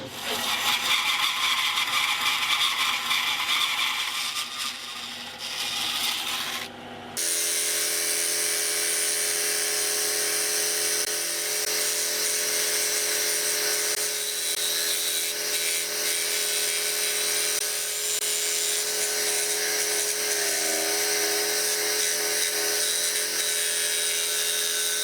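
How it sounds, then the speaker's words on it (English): A power saw slices a thin 3mm veneer from a piece of reclaimed fence wood, a loud steady high whine running continuously after a brief louder start, close and alone without talk. "I'm going to cut about a 3mm veneer off this piece of wood"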